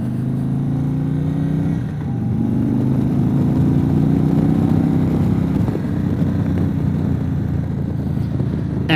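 A 2022 Indian Super Chief Limited motorcycle out on a ride, its engine a loud, close, steady drone that dips briefly, then holds an even throb with some road and wind noise underneath.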